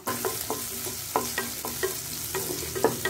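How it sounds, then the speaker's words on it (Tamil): Sliced onions and long-cut green chilies sautéed in a pan for oats kichadi, with a steady sizzle and a rhythmic series of spoon scrapes against the pan, close up, no talk. "நல்லா வதக்கிக்கலாங்க."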